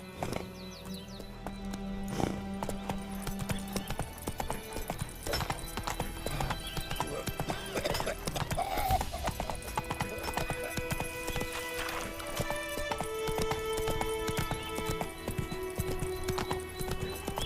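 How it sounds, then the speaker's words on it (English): Horse hooves clip-clopping at a steady gait in The Witcher 3, close and continuous, with occasional whinnies and game ambience, a voice briefly heard over it. "That's it, Roach. Whoa there, Roach"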